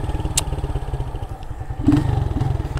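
Motorcycle engine revving in pulses as the rider taps the clutch, a close, loud, rhythmic rasp with a brief clatter partway through and a stronger surge near the end.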